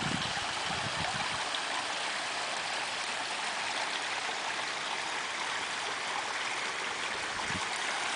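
Garden pond waterfall pours steadily into the pond, a dense, even rush of falling water that holds the same level throughout with no other sounds.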